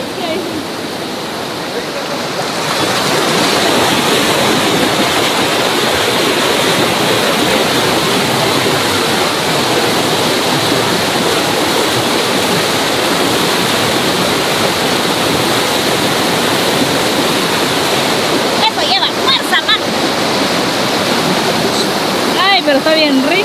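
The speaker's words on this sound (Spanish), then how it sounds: "ahí hay agua, tan limpia" Steady, loud rushing of a clean-water stream or waterfall fills the scene without pause, with a few brief knocks and splashes near the end.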